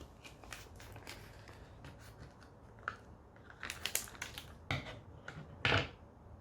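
Scissors snip and crinkle through a plastic MRE meal pouch of beef ravioli, with scattered rustles and a few louder cuts near the end, close by and without talk.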